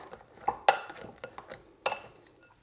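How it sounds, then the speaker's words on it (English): Buffalo chicken wings tossed in sauce in a bowl, giving a few soft wet clinks and scrapes of a utensil against the dish, with two sharper knocks standing out, close and fairly quiet. "So you just want to stir them around like this till they're evenly coated."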